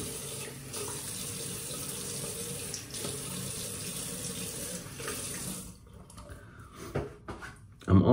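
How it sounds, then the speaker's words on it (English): Water runs steadily from a tap into a sink to wet the face and fill a shaving scuttle, a continuous close splash for several seconds before it stops, followed by a few drips and handling noises. "I'm gonna wet the face, fill my scuttle,"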